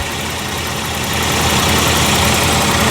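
1994 Jaguar XJ6 engine running after a crank no-start fix with a Vortec ignition module, a steady idle with a dense, noisy whir close to the engine.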